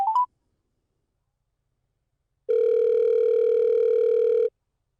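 A short burst of dialing tones, a pause of silence, then a steady, loud telephone tone holding for about two seconds before cutting off.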